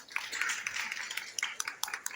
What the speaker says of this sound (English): give Paulo a round of applause